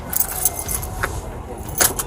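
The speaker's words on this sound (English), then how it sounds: "Can we set your keys down over here for me," Car keys jangle in short metallic bursts as they are handled and set down beside a vehicle during a police stop, with faint background rumble.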